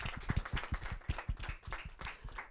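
Scattered audience clapping welcomes the opening of an Antakshari singing contest. Individual claps are distinct and uneven, from a modest crowd, fairly close and moderately quiet.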